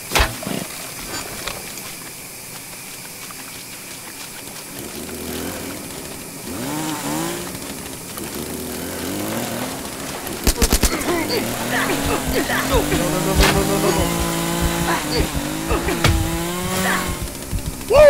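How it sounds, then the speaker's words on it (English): A chainsaw engine revs and whines in bursts in the video game The Culling, amid loud game sound effects and gunfire-like crackles, with excited voices talking over it. "He's got a chainsaw."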